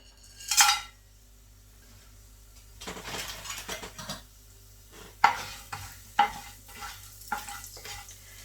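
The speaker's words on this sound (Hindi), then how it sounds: "हमारा ऑयल गर्म हो चुका है, इसमें हम ये सारी चीज़ें ऐड करके तो उसे थोड़ी देर भूनेंगे।" Whole spices for peas pulao fry in hot oil as a spoon stirs them, with a sharp clink at first, then a run of scraping strokes and bursts of sizzle, close and fairly loud.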